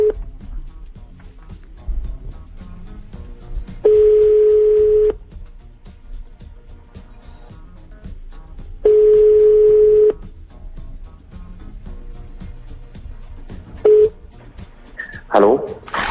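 A telephone call placed to a listener on a Hungarian radio morning show: two long, steady ringing tones a few seconds apart, then a short beep and a brief rising chirp, over a low studio background.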